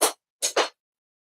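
A grinder tips over and hits the floor in a forge, three sharp clattering knocks, one then a quick pair, loud and close with silence between.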